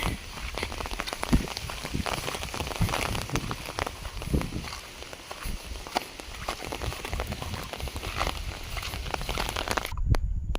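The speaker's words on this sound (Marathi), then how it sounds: "आला पाऊस पण जास्त नाही आला" Light rain pattering on an open rocky plateau, scattered drops and soft crackles over a constant hiss, fairly quiet, no talking.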